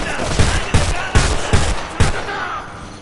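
Rapid gunfire in the shooter game Homefront, five heavy cracking shots at an even rhythm over a rumbling battle background, loud and close.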